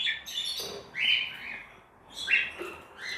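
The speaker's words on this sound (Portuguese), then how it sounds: "Um casalzinho de periquito australiano." Two pairs of budgerigars, a Bourke's parakeet couple nearby too, give short bright chirps in a few quick bursts, close and moderately loud, with brief gaps between calls and no talking.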